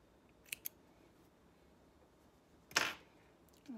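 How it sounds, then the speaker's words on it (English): Scissors snip threads on an overlocked tee-shirt seam: two quick, crisp cuts close together near the start, then a louder single snip-and-rustle later, in a quiet room with no voices. "And trim those threads,"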